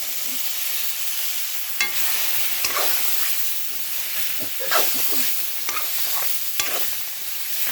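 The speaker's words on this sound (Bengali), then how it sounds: "মুগ ডাল দিয়ে ভালো কষিয়ে নিচ্ছি" Mung dal being stirred and fried in a pan, a steady soft sizzle broken by the scrape of a spoon against the metal, close and continuous with no voices.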